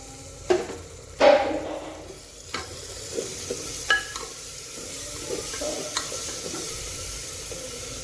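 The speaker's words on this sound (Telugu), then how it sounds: "ఇది పచ్చివాసన పోయే వరకు కొంచెం వేపుకుందాం ఆయిల్లో" Mint, coriander and green chili puree frying in hot oil for a mutton liver masala, a steady sizzle with stirring scrapes and a few clinks of utensil against pan.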